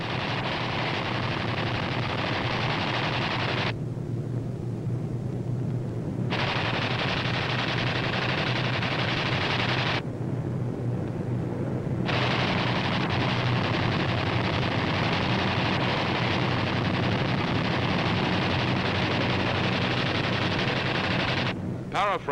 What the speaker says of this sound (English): These B-25s are carrying out low-level strafing operations against Jap surface vessels